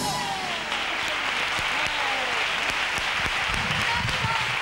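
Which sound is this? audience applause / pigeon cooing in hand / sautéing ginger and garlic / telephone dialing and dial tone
audience applause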